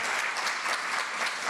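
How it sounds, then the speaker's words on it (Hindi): An audience at a Hindi poetry evening breaks into loud, dense applause for a poet, a continuous wash of many hands clapping throughout, with no speech over it. "एक बार जोरदार तालियां"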